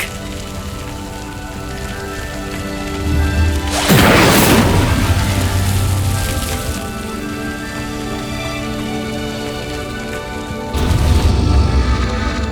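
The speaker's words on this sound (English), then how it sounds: "The flames make the pyre sink." Flames from an Incendio spell make a pyre sink in Hogwarts Legacy, a rumbling, crackling surge that swells loudly then fades, over a steady layered game ambience, with a second heavy rumble near the end.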